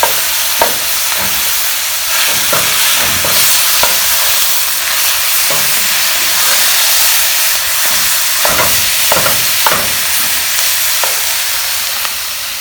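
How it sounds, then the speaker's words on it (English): Hamburger meat sizzles loudly and steadily in a pan while browning for chili, with occasional scraping and stirring clatters breaking through the constant hiss. "With the hamburgers and sizzling over here, we better get to mixing it."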